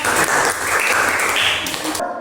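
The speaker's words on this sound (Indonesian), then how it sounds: "Tepuk tangan buat kelompok." Students clap for a group in a classroom biology lesson, a short burst of close, busy applause that cuts off abruptly at the end.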